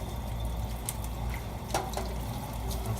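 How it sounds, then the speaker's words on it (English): Cool tap water runs over potato slices in a colander as they are rinsed for homemade potato chips, a steady splashing hiss with a few brief drips and clinks, no voices. "Just kind of rinse it off with our colander here in some cold or at least cool water."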